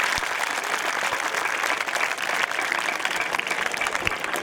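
Sustained applause from a crowd of schoolchildren at a model youth gram sabha in a school hall, dense steady clapping filling the whole stretch with a faint murmur of voices beneath.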